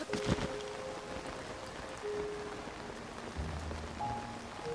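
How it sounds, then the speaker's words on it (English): Steady rain patters on a surface throughout in The Legend of Zelda, with a few brief tonal chimes and a low hum joining toward the end. "It is raining, though."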